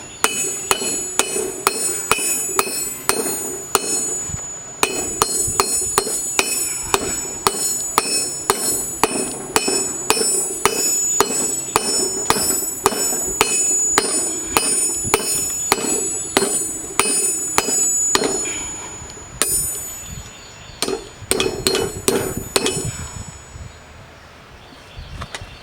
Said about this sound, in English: It's best to do all your heavy hammering when it's hot.